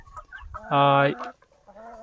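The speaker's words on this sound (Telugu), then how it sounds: "మంచి మంచి వెరైటీస్ ఇవి చూడండి ఒకసారి ఎంత బాగున్నాయో పెద్ద జాతి కోళ్ళు అంటారు కదా" A country chicken on a poultry farm gives a loud, drawn-out squawking cluck, with softer clucks and farmyard noise before and after it.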